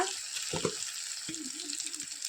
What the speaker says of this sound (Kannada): ಇದು ಚೆನ್ನಾಗಿ ಎಣ್ಣೆಲ್ಲೇ ಫ್ರೈ ಆಗಲಿ